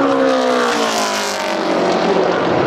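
A Camping World Truck Series race truck at Phoenix roars past loudly and close on the track, its engine note sweeping steadily downward as it passes and fades slightly.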